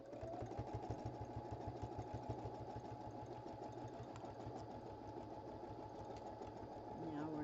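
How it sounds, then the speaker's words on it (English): A sewing machine stitches fabric in a fast, even mechanical patter with a steady motor hum, continuous and fairly close throughout, while a voice talks faintly underneath. "I'm going to sew this down on the sewing machine"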